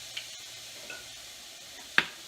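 Chicken pieces brown in a pan for tacos, giving a soft, steady sizzle close by, with a few light clicks and one sharper clink near the end.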